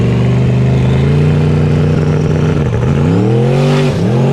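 A twin-turbo Ford drag car makes a pass, its engine holding a loud, steady high-revving drone. The pitch dips and climbs back twice near the end, close and alone with no talk.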